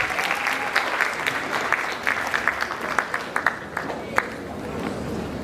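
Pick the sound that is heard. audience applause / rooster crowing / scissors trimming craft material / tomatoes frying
audience applause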